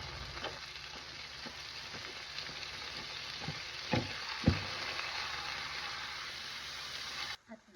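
Corned beef sizzling and frying in a pan with vegetables, a steady close crackle broken by a few sharp stirring knocks and scrapes, no voices.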